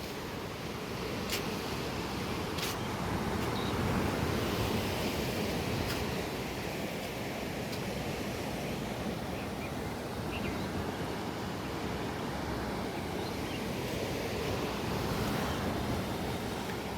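Sea waves wash steadily along the Ratnagiri coast, a continuous broad roar of surf with wind buffeting the microphone, loud and unbroken with a few faint knocks on top.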